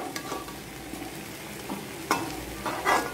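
Raw banana slices frying in a pan are stirred now and then, giving a soft steady sizzle with a few louder scraping stirs near the end, close and without talk.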